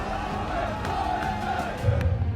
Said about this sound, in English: the roar of the crowd is firing through the stadium